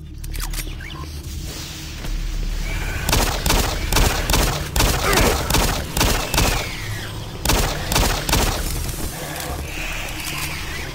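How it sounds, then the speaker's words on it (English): Shotgun blasts from Doom 3 go off over and over, loud and close, in a quick uneven rhythm after a quieter opening, with mechanical clanks and a low rumble between shots. "I just love this shotgun shot sound."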